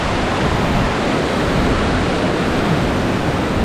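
Karakkund waterfall in Kerala rushes with a steady, loud, dense roar of falling water that holds constant throughout, with no voices.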